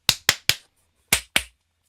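Five crisp, close hand claps, three in quick succession and then a pause before two more, each ringing out alone in a quiet room.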